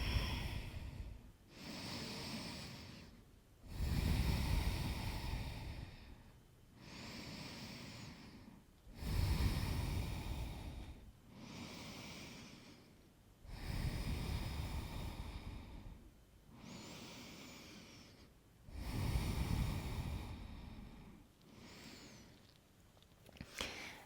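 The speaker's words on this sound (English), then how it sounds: "3 deep breaths." Slow deep breathing during a yoga practice, a person holding child's pose with hips sunk back toward the heels; about five long, breathy inhale and exhale cycles repeat evenly, close and fairly soft, with no talking.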